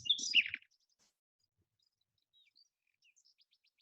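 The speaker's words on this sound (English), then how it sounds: "So you can see here that you can hear these bird sounds." A brief burst of bird chirping from a looping ambience track plays through speakers into a microphone, then fades to a few faint, scattered tweets over near silence.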